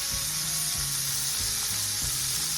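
About two pounds of shrimp tossed into a hot pan for blackened shrimp, a loud steady sizzle and fry filling the whole moment, with a few low knocks and scrapes of stirring underneath and no talking.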